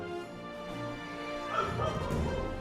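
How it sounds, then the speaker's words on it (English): Several dogs bark and yip in the distance, muffled and fairly faint, with a brief louder burst partway through. A low background hum runs underneath, and a voice may murmur faintly. "Some dogs barking."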